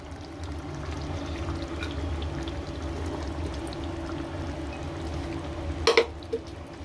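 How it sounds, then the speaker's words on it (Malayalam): Cooked chickpeas, boiled with salt and turmeric, slide wetly into a pan of wilted spinach with a soft, faint pouring sound, followed by a short sharper splash and clink near the end. "നമ്മൾ ഇതിനകത്തോട്ട് കടല ചേർത്ത് കൊടുക്കാം."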